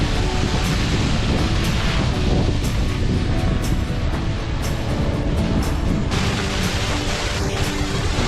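Hot artesian water at the Birdsville water supply gushes out in a loud, steady, broad rush close by, with wind buffeting the microphone and a few sharp knocks.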